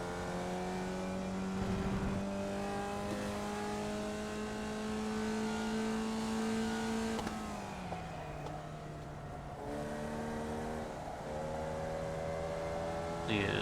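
A race car engine in the iRacing video game holds a steady high drone, then drops in pitch as the driver lifts and shifts, and builds again to a sustained whine, loud and continuous.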